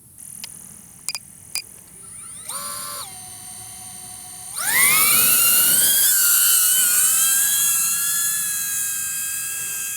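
A DJI Avata FPV drone powers up after a few short clicks and beeps, its high-pitched whining buzz rising sharply in pitch and loudness as it climbs, then holding a steady close, intense drone.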